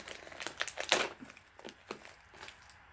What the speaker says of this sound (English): Me struggling to open a package